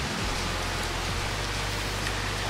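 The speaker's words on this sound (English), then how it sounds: "See, I personally don't mind the rain" Rain falling outside, a dense, steady, loud hiss of drops with a low rumble underneath and no one talking.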